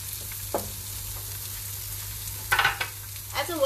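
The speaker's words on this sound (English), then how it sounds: "I've added ginger now, and I will add the onions." Ginger and onions fry in a pan with a constant quiet sizzle, broken by a few louder bursts of crackling and clatter near the end.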